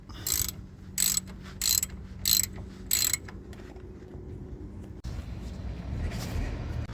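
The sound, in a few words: tightening brake caliper bolts on Peugeot 207 with a wrench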